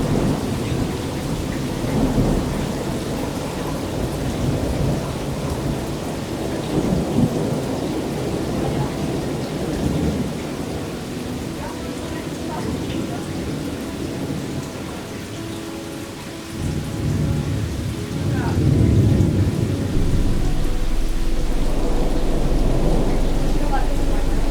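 Heavy rain pours steadily during a derecho thunderstorm while deep rolling thunder rumbles repeatedly overhead, loud and close, with gusting wind noise throughout.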